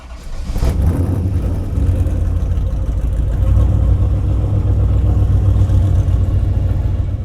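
A 1975 Dodge Ramcharger truck engine drives a lap, a steady loud low rumble that holds with slight revving swells throughout and no talk.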